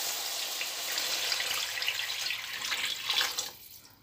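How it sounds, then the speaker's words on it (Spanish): Half a litre of water is poured into a pot holding a concentrated beef stock cube, a steady soft rushing splash that carries for several seconds before tapering off. "Y le voy a añadir el medio litro de agua."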